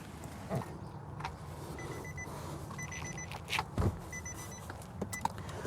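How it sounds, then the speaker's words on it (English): A car starting up inside the cabin, with a few faint electronic beeps repeating in short sets over a low engine rumble and some clicks. "Let's turn on the car."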